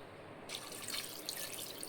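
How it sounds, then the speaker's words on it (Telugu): Water goes into a pressure cooker holding mutton pieces and turmeric, a faint close splashing and trickling that begins abruptly and continues steadily. "అందులోనే కొద్దిగా వాటర్ కూడా వేసుకోవాలి."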